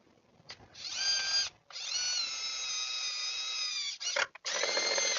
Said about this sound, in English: Put it up so my drill goes through.